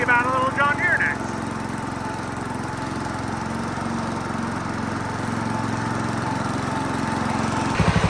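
An Oliver diesel tractor engine idles steadily and loudly at close range, a continuous chugging drone running on as its fuel is shut off, with a brief voice near the start.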